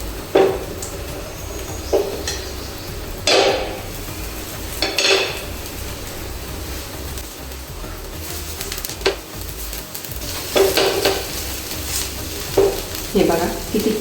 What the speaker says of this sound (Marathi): तर दुसऱ्या साईडनी व्यवस्थित भाजून घ्यायचे.